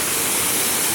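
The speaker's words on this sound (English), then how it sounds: "My bedroom waterfall." Waterfall beside a bedroom campsite on the American River, a steady, loud, dense rush of falling water filling the short stretch without any break or voices.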